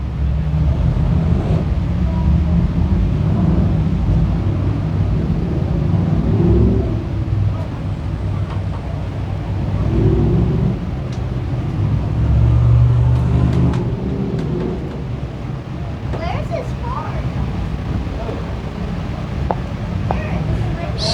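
Dirt track sportsman race cars at Can Am Speedway rumble and rev in a steady low drone as they roll toward pit road, heard throughout with a crowd's murmur and announcer talk over them.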